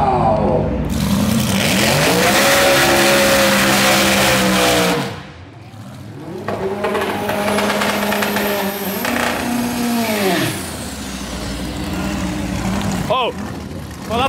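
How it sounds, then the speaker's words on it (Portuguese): A 1500 hp Chevrolet Omega drag car revs loud and close, climbing in long sustained rises that hold and then drop away, with a brief lull in between and a faint voice during the revving. "quando o carro é muito potente, você sente no corpo, mesmo com o tampão de ouvido, é barulhento."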